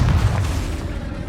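A Confringo spell explosion in Hogwarts Legacy, a loud, deep boom that hits at once and rumbles away over about a second.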